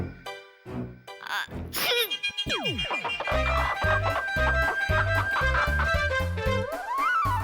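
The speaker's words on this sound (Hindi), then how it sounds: "मुर्गे की तरह पक पक पक कर रहे हो।" A chicken clucks in a quick series of pok-pok calls over lively cartoon music and sound effects, loud and close, with a rising comic squawk.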